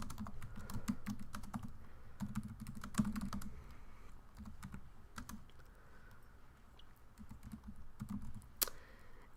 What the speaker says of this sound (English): you can just type all the things that you might need to get done today